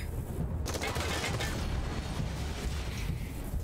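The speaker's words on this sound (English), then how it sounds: "Did you see that explosion?" Explosions and bursts of gunfire crackle in the post-apocalyptic role-playing game Wasteland 3 during an attack on Ranger HQ, a dense rapid volley of shots with booming blasts, loud and continuous, with faint voices underneath.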